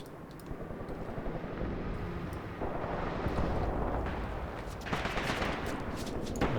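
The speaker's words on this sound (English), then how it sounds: "machine gun unit here is starting to engage the enemy" Machine gun fire in the war game Graviteam Tactics Mius Front, a dense rumbling roar of bursts and distant blasts that holds steady throughout, with no talking.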